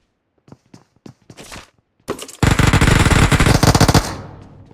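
Rapid automatic gunfire in a squad-battle video game, a long loud continuous burst after a few short scattered shots and brief clicks.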